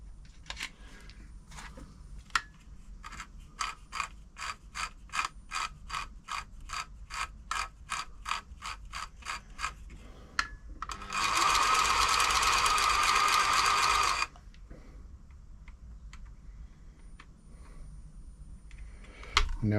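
A New Home L 312 sewing machine's pattern mechanism is hand-turned, giving a steady run of close mechanical clicks and ratchet ticks, broken by a louder sustained whirring burst midway before the sparse clicking resumes.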